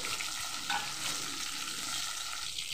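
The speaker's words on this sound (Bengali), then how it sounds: "সেই পটলগুলো ভেজে নেব" Pieces of pointed gourd (potol) fry in hot oil in a pan, giving a steady, close hiss of sizzling with faint stirring movements, and no talking.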